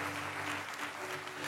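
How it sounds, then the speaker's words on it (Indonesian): Applause from a church congregation during a sermon, a steady, even wash of clapping that stays at a moderate level for the whole moment, with no voices over it. "kasih tepuk tangan yang paling meriah"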